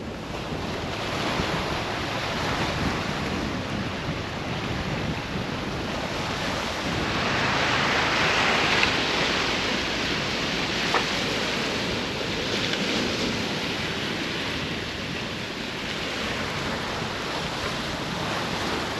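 Ocean surf rolls continuously onto a Grand Cayman beach, with a steady roar of breaking waves and wind buffeting the microphone, swelling slightly midway. No voices.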